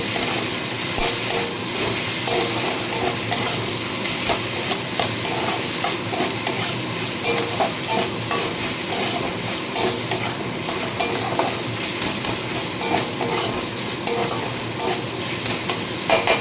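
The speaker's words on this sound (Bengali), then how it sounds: "আদাটা দিয়েও ভালো করে কষিয়ে নেবো" Ground ginger and green chili frying with onion and tomato in a pan for a fish-head lentil dal, a dense continuous sizzle with constant close stirring and scraping throughout.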